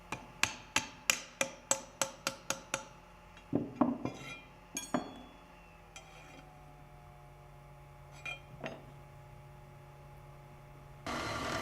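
A hammer taps a nylon shaft bushing into place on a throttle shaft weldment sleeve: a quick run of sharp, evenly spaced metallic strikes, then a few scattered knocks and clinks, close and moderately loud, with no voices.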